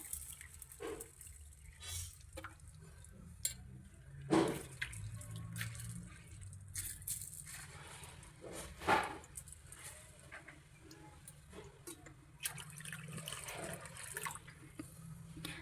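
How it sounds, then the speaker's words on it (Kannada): Water is poured over grains left to soak for dosa batter, a faint, uneven splashing trickle with a few louder spurts against a quiet kitchen background. "ಇವಾಗ ನೆಕ್ಸ್ಟ್ ಇದಕ್ಕೆ ನೀರು ಹಾಕ್ಬಿಟ್ಟು"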